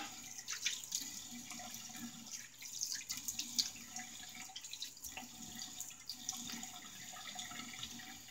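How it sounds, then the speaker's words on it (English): A bathroom tap runs for a rinse after a shave, a soft steady stream of water splashing into a sink with small irregular splashes and knocks. "Let me get a rinse."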